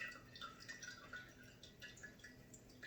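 Tea bags lifted from freshly brewed tea drip back into the liquid, giving a quiet, irregular patter of small drops over a few seconds, close and faint, with no voices.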